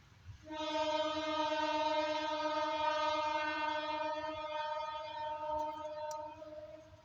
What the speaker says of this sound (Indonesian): Ini kayaknya kereta yang bagus tuh.